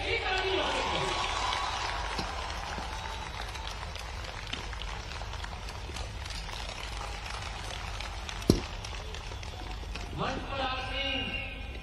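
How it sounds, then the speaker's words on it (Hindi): Crowd applause welcoming the chief minister at a Gwalior Gaurav Divas gathering, a sustained broad wash of clapping running steadily throughout with one sharp louder clap near the end. "यशस्वी मुख्यमंत्री शिवराज सिंह जी का हम तालियों की गड़गड़ाहट से हम लोग स्वागत हैं"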